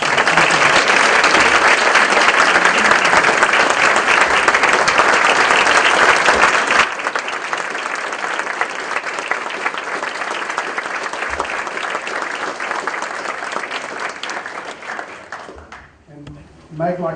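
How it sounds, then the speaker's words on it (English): An audience at a school board meeting applauds loudly and steadily for several seconds, then the clapping thins out and fades before a few final claps. "So how about another round of applause?"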